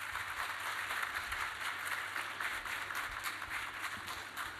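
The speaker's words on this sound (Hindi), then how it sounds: "अफसोस की बात है आप लोग तालियां बजा रहे" Audience at the Indus Conclave 2025 education event applauding in a hall, a steady, dense wash of clapping that holds at even loudness throughout without voices over it.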